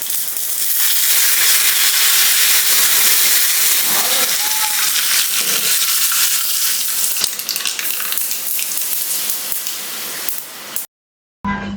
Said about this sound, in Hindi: तो मैंने यहाँ पे राई और करी पत्ते का तड़का लगाया है।